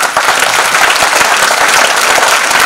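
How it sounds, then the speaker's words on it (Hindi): Loud, dense applause from an audience at an award ceremony for a record-setting comedy drama event, a sustained close wash of many hands clapping at once. "जोरदार तालियां"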